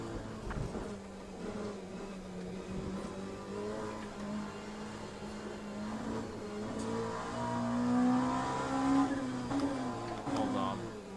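Race car engine in the sim game Le Mans Ultimate, a steady droning whine that rises in pitch and swells louder as the car accelerates, heard alone at moderate level.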